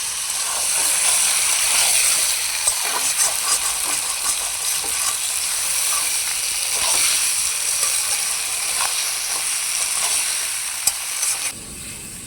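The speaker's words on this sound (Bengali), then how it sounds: "টমেটো সহকারে আলুগুলোকে আমি ভালোভাবে কষিয়ে নেব" Boiled potatoes and chopped tomato sauté in a pan for a potato and egg curry, giving a steady, close sizzle with scraping stirs throughout and no voices.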